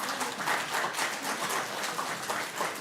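Guests at a B'nai Mitzvah celebration applaud a couple marking fifty years of marriage, a soft, even wash of many hands clapping steadily from a moderate distance, with no talk over it.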